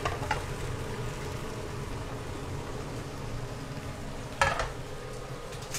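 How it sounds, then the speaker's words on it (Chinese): An egg fries in a hot flat pan with a steady low sizzle that continues throughout, broken by a brief louder crackle near the end. "这个不是温泉蛋啊，还在煎蛋啊"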